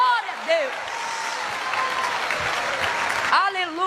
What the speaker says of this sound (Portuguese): quando for para aplaudir, vamos fazer com vontade